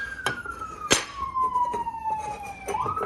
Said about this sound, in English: Obligatory siren.